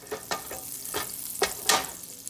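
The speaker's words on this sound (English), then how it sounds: "I'm going to go ahead and add a drizzle of olive oil and a tablespoon of butter. I'm going to let this melt." Butter and olive oil sizzling in a heated pot, a soft steady crackle broken by several sharp spoon clicks and scrapes against the pot, close up.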